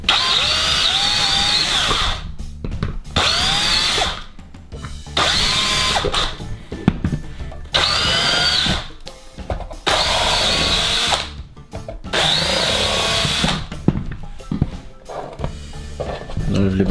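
Power drill boring 5 mm holes into a starter box for a 1/8 scale buggy, several whirring bursts of a few seconds each separated by short pauses, close and loud, with a voice speaking between bursts.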